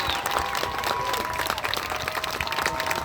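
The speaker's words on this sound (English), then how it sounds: "So a round of applause for our spouses out there." A crowd applauds with dense, steady clapping throughout, a few cheers rising above it.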